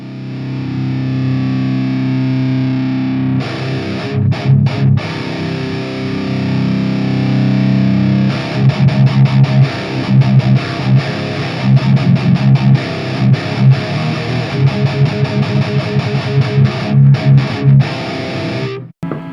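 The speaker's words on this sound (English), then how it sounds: "I hope you can hear the saturated palm mute." Heavily distorted electric guitar through an EVH 5150 III 6L6 50W amp on the red channel, starting with a sustained chord, then chugging palm-muted rhythmic bursts with brief gaps, loud and aggressive.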